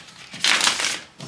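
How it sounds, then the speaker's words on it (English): Tarot cards being shuffled by hand, a brief crisp riffling burst with papery rustle, close and alone. "let's shuffle these cards a little bit more"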